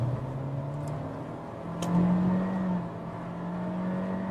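A 2023 Honda Civic with a turbocharged engine pulls hard under full throttle, its steady droning engine note swelling and rising slightly in pitch, heard from inside the car with no talking.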